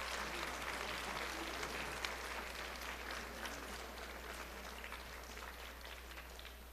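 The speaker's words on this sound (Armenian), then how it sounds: "մեկ հատ ցուկ ձեր ծնողներուն համար մեծ ծափահարություն մնեք" Children clapping for their parents at an ARF Day celebration, a steady dense patter of applause from a group at moderate distance, continuing evenly without talk.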